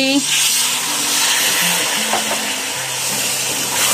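A spoonful of water goes into tomato paste cooking with paprika and sugar, giving a constant hissing sizzle from the pan while a voice talks over it.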